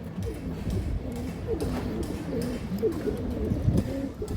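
A large female Giribaz high flyer pigeon coos in soft, repeated low calls at close range, with a faint voice and handling noise in the background.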